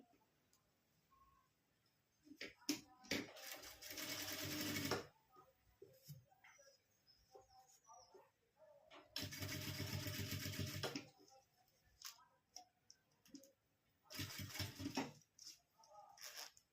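A sewing machine runs straight stitches to attach a zipper to a small girl's top, whirring in three separate runs broken by quiet pauses filled with soft handling noises.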